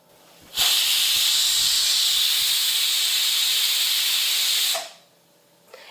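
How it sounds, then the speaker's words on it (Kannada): A pressure cooker whistle: loud, steady hiss of steam venting under pressure that starts suddenly, holds for about four seconds, then cuts off. "ಈಗ ಮುಚ್ಚಳ ಮುಚ್ಚಿ ಒಂದು 4 ವಿಜಿಲ್ ಕೂಗಿಸ್ಕೋತೀನಿ ನೋಡ್ರಿ"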